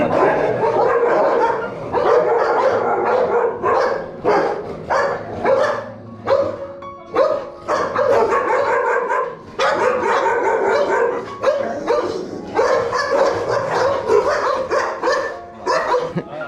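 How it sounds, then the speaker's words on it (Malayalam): Several dogs bark loudly and aggressively in rapid, overlapping bursts, nearby, with brief pauses and a few yips between volleys. "ഇവിടുത്തെ പട്ടിയൊക്കെ ഭയങ്കര കലിപ്പിൽ നിൽക്കണം, ഭയങ്കര ശൗര്യം."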